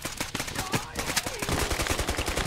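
Rapid gunfire in the Squad video game, dense bursts of sharp automatic shots in quick rhythmic succession, loud and close throughout with a brief lull near the middle.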